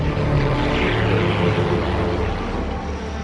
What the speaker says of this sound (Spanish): Este es un Avenger de la Segunda Guerra Mundial de la Marina de Estados Unidos.